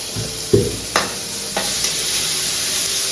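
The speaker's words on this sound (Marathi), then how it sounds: "हे सगळं फ्राय करून घ्यायचं." Maggi noodle ingredients frying in a pan over a gas stove, a steady close sizzle broken by a few sharp stirring clanks and scrapes, with no voices.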